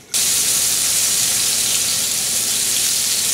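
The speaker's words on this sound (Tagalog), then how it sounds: "Halos malapit ng maluto yung ating piniprito na mahi-mahi." Mahi-mahi fish frying in a pan for sweet and sour fish, a loud, steady bright sizzle that starts abruptly and continues unbroken, with no talk.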